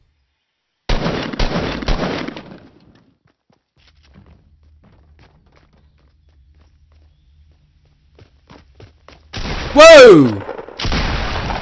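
Gunfire bursts in the Fortnite video game, sharp loud shots in two clusters separated by near silence, with an exclamation and a sweeping tone among the later shots.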